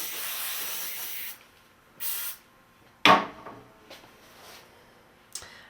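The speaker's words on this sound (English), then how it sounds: "And hairspray again." Hairspray from an aerosol can misted onto natural hair during a French braid heart style, heard as several short hissing bursts: a long spray, then two brief puffs with a sharper one between, fairly close and with no talk.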